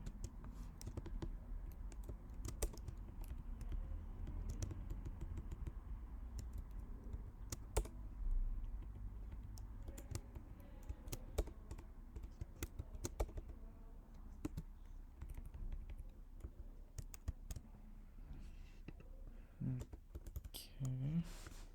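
Typing on a computer keyboard: soft, quiet keystrokes and clicks come in irregular bursts and single taps, close but low in level.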